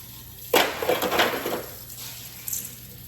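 Running tap water splashes in a sink while rinsing purple hull peas, a broad rushing burst that swells and fades, with a brief second splash near the end.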